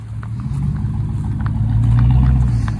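A four-wheel drive vehicle's engine revs loud and steady, building slightly as it speeds into a river crossing, a close, continuous low roar with no voices.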